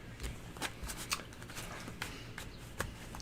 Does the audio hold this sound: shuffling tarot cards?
yes